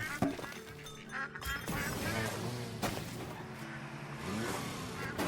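Ducks in the farming video game Farm Together quack repeatedly over a busy layer of game sounds and music, fairly close and clear.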